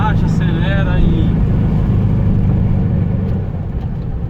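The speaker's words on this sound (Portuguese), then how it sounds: "engatou uma terceira marcha, acelera e" 1986 Volkswagen Fusca pulling uphill in third gear, its engine a steady low rumble that fills the clip, with a brief voice early on over the drone.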